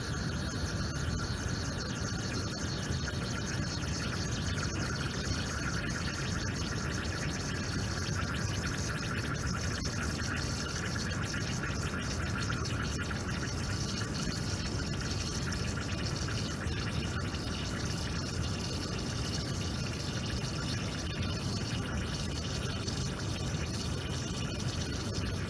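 An espresso machine on a technical settings menu dispenses a double coffee of about 60 ml, giving a steady, continuous hiss and trickle of liquid that runs unbroken at an even level with no voices.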